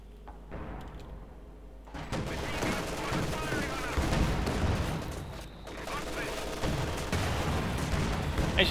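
Battle noise from Company of Heroes 2, with gunfire and blasts from a Pak 40 anti-tank gun rolling on in loud, overlapping bursts and a steady din beneath.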